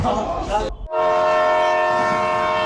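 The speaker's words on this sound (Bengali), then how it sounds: "এখানে রাহাত একটি ট্রেন দেখাচ্ছিল।" A loud, sustained train horn blares with steady tonal bands over rumbling rail noise, after a brief burst of engine clatter and a short gap.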